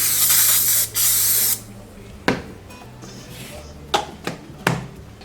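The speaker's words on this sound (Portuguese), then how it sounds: "unta bem bonitinho a sua forma" Cooking spray hisses in a long loud burst onto a cake pan for a Sicilian lemon truffle cake, followed by a few short sharp knocks and clatters of the pan in a quiet kitchen.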